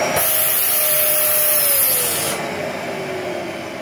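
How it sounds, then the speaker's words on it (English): A vacuum unit with its hose blocked by hand revs up to a loud, steady high-pitched whine, then drops after about two seconds as the suction relief valve opens, leaving a lower sustained running roar. "you're going to hear it rev up, and if I've done it right, you'll hear the suction relief valve click"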